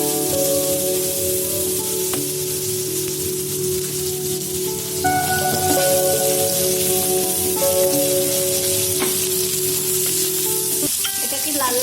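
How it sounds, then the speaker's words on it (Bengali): Chopped onion and garlic fry in oil in a pan as a tempering for dal, with a dense steady sizzle, faint tonal hum beneath and a few clanks of a utensil. "বাগারটা লাল লাল করে ভাজতে হবে।"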